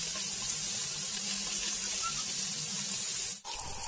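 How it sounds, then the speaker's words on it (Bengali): Koi fish frying in oil in a pan, a steady close hiss and sizzle held at an even level, with a short clatter near the end as the fish are moved or turned. "তো উলট পালট করে আমি মাছগুলো সুন্দর ভেজে নিচ্ছি"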